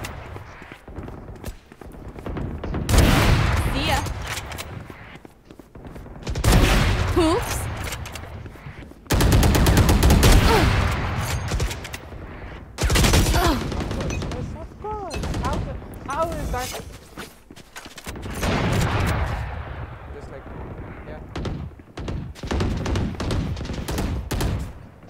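Gunfire in the video game PUBG comes in loud, rapid bursts separated by brief pauses, with footsteps and a voice faintly present between volleys.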